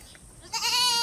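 A goat bleats once, close and loud, a short rising call that fills the second half after a quiet start.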